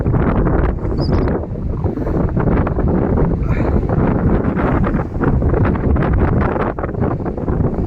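Strong wind on the hilltop at Ramakkalmedu, a loud continuous roar buffeting the microphone with heavy gusting rumble throughout, no voices.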